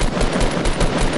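Rapid automatic gunfire in the Fortnite battle royale game, a loud, dense burst of closely spaced shots running throughout, no talking.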